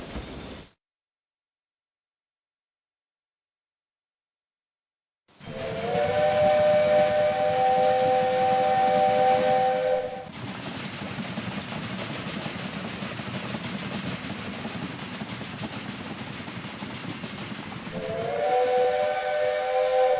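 A steam train pulls into a station in the Railway Empire 2 video game, sounding its whistle in two long, loud blasts with a sustained steam hiss between them after a brief silence.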